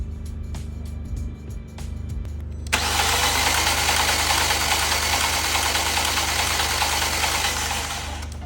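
A Fiat Punto engine cranks over on the starter during a compression test, a loud steady churning drone that kicks in sharply after a few seconds of quieter mechanical noise and runs on to the end.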